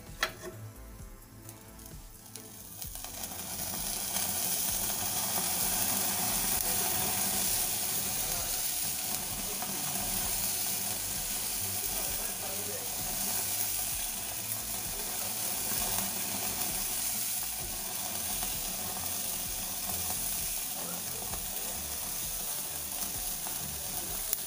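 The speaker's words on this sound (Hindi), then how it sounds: "हमने ये चारकोल रखा है गैस के ऊपर, थोड़ा सा ये लाल हो जाए फिर हम स्मोक देंगे उसको, पनीर को। इसमें थोड़ा सा हम घी डालेंगे।" Ghee hits red-hot charcoal set over a gas flame to smoke paneer, bursting into a loud, steady hiss and crackle that swells after a quieter start and keeps sizzling evenly.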